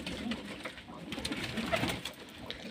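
Pigeons coo softly in a bird enclosure, several low, rolling calls overlapping at moderate distance against a quiet background rustle.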